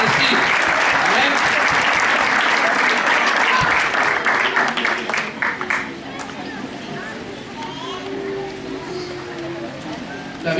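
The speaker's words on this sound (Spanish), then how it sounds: "¿Cuántos le dan un aplauso al Señor por esto?" A church congregation at an evangelical service bursts into loud, dense applause that holds steady for several seconds, then thins into scattered clapping and murmuring voices.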